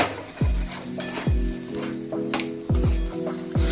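Capsicum and spice paste for kadai paneer fry in a pan with a constant sizzle, and a spoon knocks and scrapes the pan in several separate strokes, each ending in a low thud.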